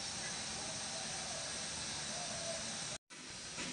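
Hot water heating in a pot for chicken biryani rice gives a steady, soft steamy hiss that is cut briefly by a sudden silence near the end, then resumes.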